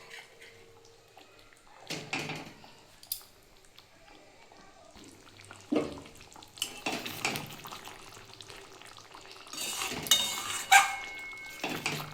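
Hilsa fish pieces go into a boiling mustard and poppy seed sauce, with a few separate bursts of splashing sizzle and clinks of pan and utensil and quiet stretches in between.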